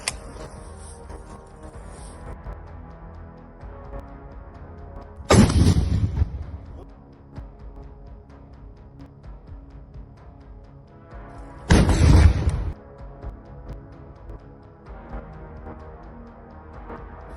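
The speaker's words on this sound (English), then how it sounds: "As one Ukrainian soldier fires a handheld rocket toward a Russian vehicle" A Ukrainian soldier's handheld rocket is fired at a Russian armored vehicle in a forest, two sharp, heavy blasts several seconds apart over a low, quiet background.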